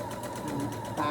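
Sewing machine backstitching on a fabric basket, a steady close hum through a short burst with a voice speaking over it.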